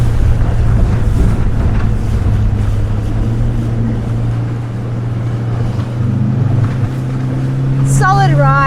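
The engine of a Highfield 380 Sport boat drones low and steady through a sharp turn, wrapped in heavy wind rush and water noise, with a brief rising whine near the end.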